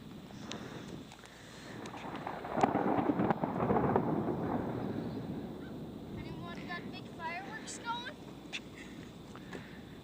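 Thunder rolls during a thunderstorm at Jumptown, a low rumble that swells, lingers for a few seconds and then fades, with people talking nearby.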